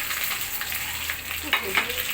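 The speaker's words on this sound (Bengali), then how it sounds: "প্রথমে পেঁয়াজ আর কাঁচামরিচ কিছুটা দিয়ে দিচ্ছি" Onions and green chilies frying in hot mustard oil in a wok, a close steady sizzle with a couple of brief spatula scrapes and stirring clatters partway through.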